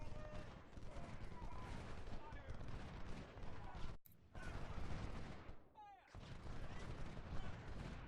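Infantry volleys crackle in Ultimate General: Civil War, a dense, continuous rattle of musket fire with heavier bursts, keeping up throughout apart from two short breaks.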